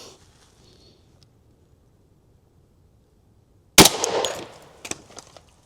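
A rifle with a 16-inch barrel fires one sharp 10mm shot of G9 Defense 95-grain ammunition outdoors after quiet, with a brief ringing tail and a few faint clinks.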